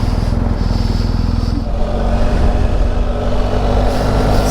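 A BMW GS Adventure motorcycle rumbles along the road at steady speed, its engine drone loud and continuous with wind noise, rising slightly partway through.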